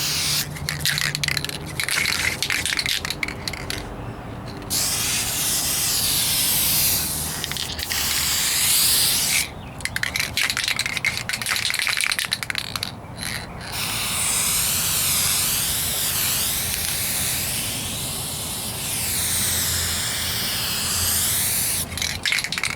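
Aerosol spray paint laying a base coat on the driver's side wheel arch of a 1998 Ford Ranger: a close, continuous hiss that runs in several long bursts separated by brief pauses.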